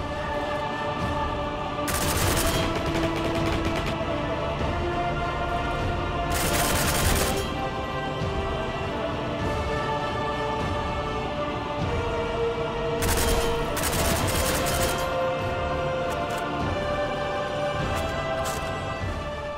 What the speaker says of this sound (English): at close to medium range, burst fire works fairly well